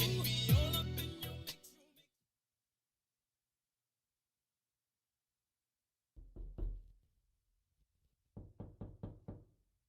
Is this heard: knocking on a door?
yes